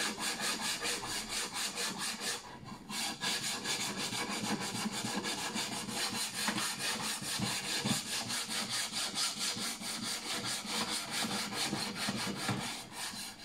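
A sander works an acacia wood ax handle: a steady, loud, continuous abrasive rubbing and scraping that runs almost unbroken throughout, with a brief dip near the start.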